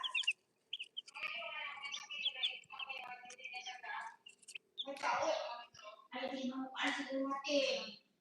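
A Brahma chicken clucks and murmurs close by on a farm, soft repeated clucks and squawks in bursts, with a person talking over and between them.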